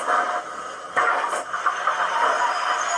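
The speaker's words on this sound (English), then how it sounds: "Coupling." A heavy metallic clank as railway wagons couple, followed by a steady hissing, rumbling noise, fairly close with no talking; a sound effect from a model Black 5 steam locomotive's digital sound decoder.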